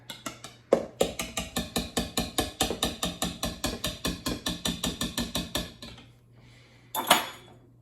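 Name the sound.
beating sourdough crumpet batter vigorously in a bowl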